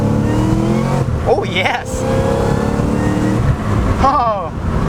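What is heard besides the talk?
700HP Cadillac CTS-V wagon accelerating in first gear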